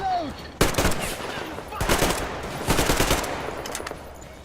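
Bursts of automatic gunfire from the video game Metro Exodus rattle out in three rapid volleys separated by short pauses, loud and close, with a few fainter single shots trailing at the end.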